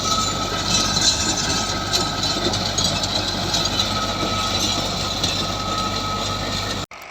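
A Ghazi tractor works in second gear, pulling a 54-blade rotavator. It makes a loud, continuous, even engine roar and churning drone that holds steady throughout, then cuts off abruptly at the end.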